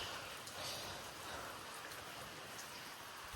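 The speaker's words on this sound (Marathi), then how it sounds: "पाऊस जाम जोरात यायला लागलाय" Steady, dense rain hisses on surfaces all around, a continuous soft roar with no voices.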